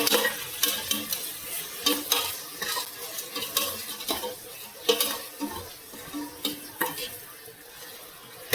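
Sliced onions sauté in a pan for chicken leg piece biryani, a steady sizzle broken by repeated scraping stirs of a spatula at close range, with no voices.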